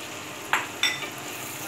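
White rice with prawns is stir-fried in a pan over a quiet, steady sizzle, with two sharp metallic clinks of a spatula against the pan and a softer scrape after them.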